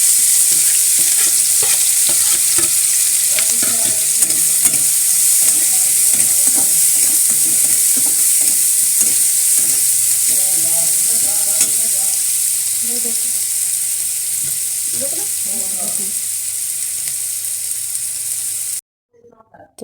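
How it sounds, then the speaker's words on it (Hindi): Onions and cumin seeds fry in a pan, giving a loud, continuous hiss of sizzling oil with scraping and stirring clatter, close up. A faint voice murmurs underneath before the sound cuts off abruptly near the end. "जीरा देखिए पक गए, मैं इसमें प्याज डाल देती हूँ।"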